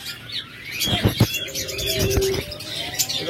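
Pet budgerigars, diamond doves and lovebirds kept for sale chirp and tweet in quick bursts close by, with soft cooing threaded between the calls and a brief flutter of wings.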